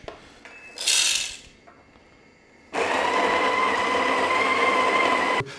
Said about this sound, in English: So just going to grind coffee together